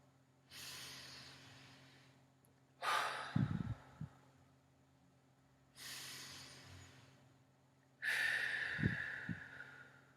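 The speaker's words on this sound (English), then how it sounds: "let's take 3 deep breaths together" Deep breaths taken together in a calm group exercise, four long slow airy inhales and exhales, close and soft, with faint low thumps during two of them.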